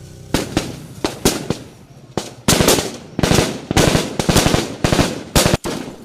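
Bursts of blank-ammunition gunfire ring out during a military ambush training drill for volunteer defense fighters, loud sharp cracks in rapid irregular volleys and single shots, some overlapping, with no speech.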